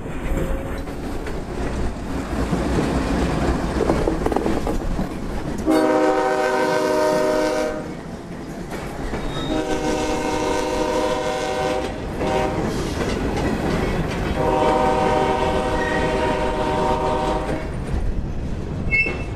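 Freight train B341 rolls into Agrock with loud rumbling wheels and clickety-clack on the rails, broken by several long, blaring horn blasts in sequence, close and powerful, with no talking.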